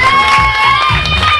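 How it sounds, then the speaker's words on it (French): Children at a magic show cheer and clap loudly for a volunteer, a dense close crowd of high voices and applause throughout. "On l'applaudit bien fort"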